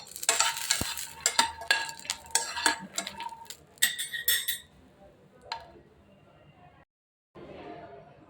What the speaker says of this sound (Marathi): थोडेसे मखाने घालणार आहे। त्यालाही मस्त सोनेरी होईपर्यंत भाजून घेणार आहे